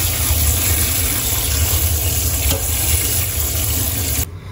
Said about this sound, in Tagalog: Huhugasan po natin sa tubig para po hindi magdikit-dikit